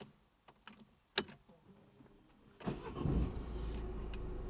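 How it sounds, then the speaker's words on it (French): A car engine cranks and catches after a few small clicks and key sounds, then settles into a steady, close idle rumble inside the vehicle. "Eh ben on va mettre en route le moteur."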